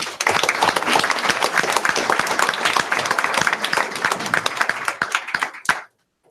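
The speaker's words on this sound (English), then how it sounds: "Give them a round of applause." At a school Board of Education meeting, a roomful of people claps in a loud, dense burst of applause that holds steady for several seconds, then stops abruptly.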